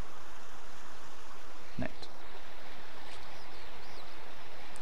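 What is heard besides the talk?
flowing water in the video game Skyrim SE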